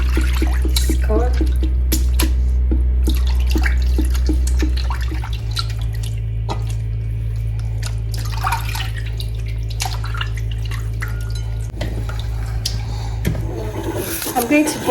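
Tap water running steadily into a sink while raw chicken gizzards are rinsed by hand, with small splashes and drips throughout and brief talk in the background.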